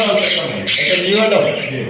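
A male pet bird at a bird market squawks in harsh, nasal bursts close by, with voices talking over it.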